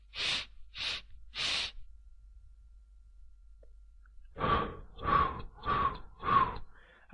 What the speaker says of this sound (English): I'm breathing in through my nose, holding it for 4 counts, and then breathing out my mouth.